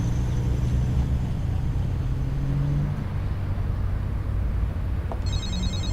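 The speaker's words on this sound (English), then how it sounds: "The second I'm out the door, my phone starts ringing." A phone's electronic ring comes in briefly near the end, heard over steady road or car noise.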